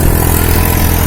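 A New Holland 3630 tractor engine runs steadily at a loud, constant level, its low throbbing drone unbroken and close by, with no voices over it.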